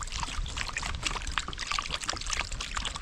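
Running water splashes and trickles steadily nearby, a continuous bright wash of noise as freshly caught goldfish are rinsed under it.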